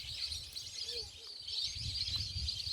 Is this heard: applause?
no